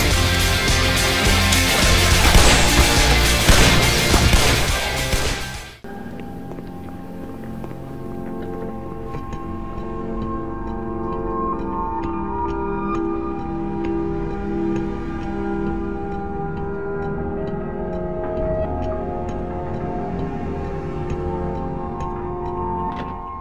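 Soundtrack music from the video game Black Mesa: a loud, dense burst of full-band sound cuts off abruptly after a few seconds, then gives way to steadier, sparser music with a ticking, percussive pulse, with no talking.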